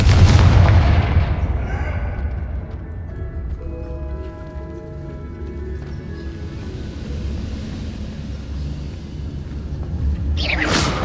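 Fire spell blasts in the video game Hogwarts Legacy, with a heavy booming explosion at the start, then a rumbling, crackling tail and a second burst at the end, loud and close.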